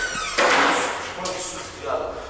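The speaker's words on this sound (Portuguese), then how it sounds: "Fecha a porta." A house door is shut with a swooshing sweep and a thud, close and fairly loud, amid people talking.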